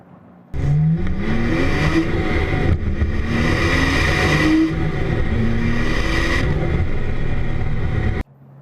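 A tuned Porsche 996 Turbo accelerates hard, its engine snapping on loud and close, then climbing in pitch through rapid gear changes before cutting off abruptly.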